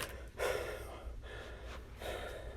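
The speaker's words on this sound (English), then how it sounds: "He's breathing heavily now." Heavy breathing comes close and loud, with deep, ragged gasps at an uneven pace and no talking between them.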